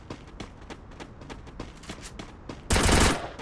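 Gunfire from the mobile shooter game Free Fire: a rapid string of clipped gunshots runs over footstep-like taps, ending in a loud, dense burst of automatic fire that lasts under a second.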